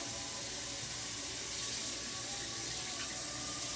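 Tap water running steadily into a sink while tie-dyed fabric is rinsed, a constant close hiss and splash with no voices.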